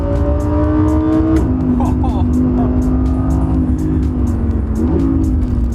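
A high-pitched Audi R8 V10 Plus naturally aspirated V10 engine wails and revs, its tone dropping and climbing between gear changes, loud and close throughout.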